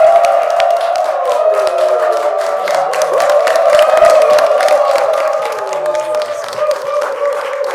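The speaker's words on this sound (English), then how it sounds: "A round of applause for her." A television studio audience claps and cheers to welcome a guest on a talk show, a full, sustained round of applause with whoops. Music plays beneath the crowd noise the whole time.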